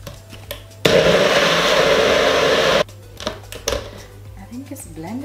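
Blender whirring loudly and steadily for about two seconds while making sea moss gel, a dense motor roar that cuts off abruptly, with kitchen handling noises and a voice before and after.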